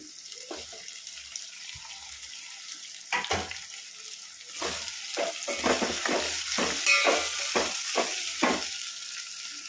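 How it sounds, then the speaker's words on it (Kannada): Eggplant masala frying in oil in a pan, a steady sizzle with repeated scraping stirs that grow busier and louder in the second half. "ಎಲ್ಲ ಹಾಕ್ಕೊಂಡು ಫ್ರೈ ಮಾಡ್ಕೊಳ್ಳೋಣ. ಎಣ್ಣೆಲ್ಲೇ ಫ್ರೈ ಮಾಡ್ಕೊಳ್ಬೇಕಿದು"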